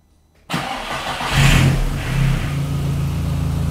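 A VW Mk1 Caddy with a 20V turbo engine conversion cranks and catches after half a second of quiet, then swells into a loud, close, rough idle with a brief rev that settles down.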